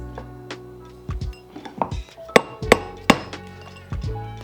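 A metal ring is hammered on a steel mandrel to stretch it to size: a series of sharp, ringing metallic strikes at uneven intervals, some louder than others, close by with no talk.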